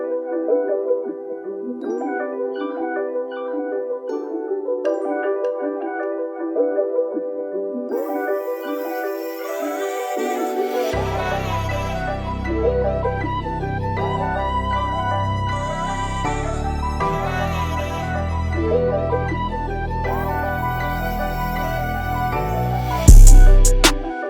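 A finished hard trap loop at 79 BPM: a pitched melody plays alone at first, then deep bass and drums come in, and the full beat runs steadily with a sharp hit near the end.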